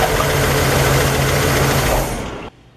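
Cranking a 1960 Cadillac Series 62 engine with a hard-start fault caused by fuel draining back to the tank, a loud, close, steady churning drone that tapers off and cuts out near the end.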